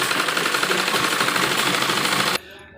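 A sewing machine double-stitches the sleeve of a net embroidered lehenga blouse, giving a fast, steady mechanical chatter that runs close and loud for about two seconds before stopping abruptly.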